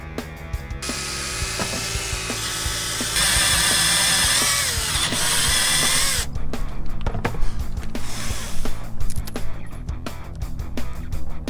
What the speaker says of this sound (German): Deswegen werden wir die mit dem Topfbohrer jetzt versenken.